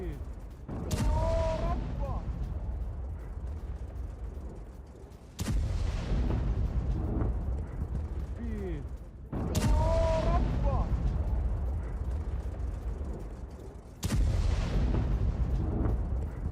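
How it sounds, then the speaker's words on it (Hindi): Heavy explosions from an Iranian ballistic missile attack on Dimona in Israel. Four deep booms land several seconds apart, each followed by a long rolling rumble, with faint voices underneath. "घातक बैलिस्टिक मिसाइलों से ईरान का अटैक"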